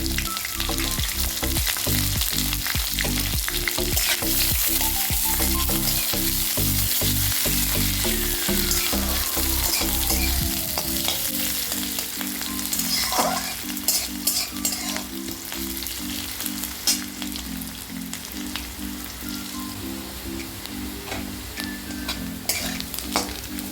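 A bay leaf fries in hot oil for a gobhi aloo sabji, with a busy, close sizzle and crackle and repeated stirring scrapes. A low rhythmic hum plays beneath during the first half, and there is no talking.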